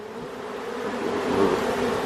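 A large swarm of honey bees in a backyard gives off a steady, dense buzzing hum that rises slightly in loudness, heard close and continuous with no talking.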